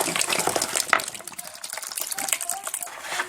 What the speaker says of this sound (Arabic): دلوقتي هزود كده بقيه الميه، هزود اللتر كله